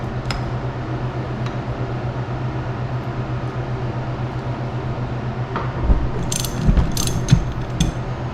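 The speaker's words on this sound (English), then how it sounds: "There's 2 flats where a 17 millimeter wrench goes, and we'll use that to take this nut off." A 17 mm wrench works a nut loose on a motorcycle fork shaft during a fork seal job. A steady mechanical hum runs throughout, with sharp metallic clicks and clinks near the end.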